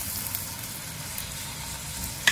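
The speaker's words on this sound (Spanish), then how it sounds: "Ya que haya dorado un poquito la cebolla, vamos a poner el tomate." Onion and tomato sizzling in a hot frying pan while cooking rice with sausage and cheese, a steady, fairly loud frying hiss throughout with a brief clatter at the very end.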